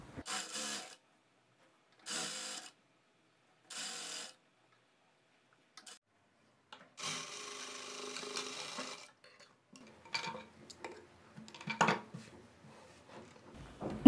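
Sewing machine stitching a folded blouse hem: three short separate bursts of rapid mechanical whirring, a longer steady run, then irregular clicks and handling of fabric, close and fairly quiet.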